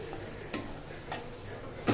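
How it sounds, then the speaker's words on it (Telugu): Curd being stirred into a curry cooking in a pan: faint scraping strokes over a low oil sizzle, with three brief sharper clinks of the spoon spaced across the moment. "ఇప్పుడు పెరుగు కూడా కలుపుతున్నా నేను."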